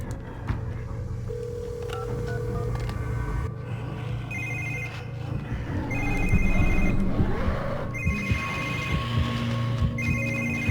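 A telephone rings repeatedly in the horror video game The Evil Within, sounding in bursts of electronic trilling over a low droning ambience, with other game noises mixed in and no speech.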